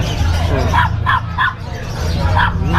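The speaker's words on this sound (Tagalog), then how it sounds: "alam nyo ba yung Samoyed, isa to sa mga malalaking aso na isinasali dun sa mga show" A four-month-old female Samoyed puppy, fluffy and sleek-coated, gives a run of high, short yips and barks in a few bursts over steady background chatter and noise at a dog show gathering.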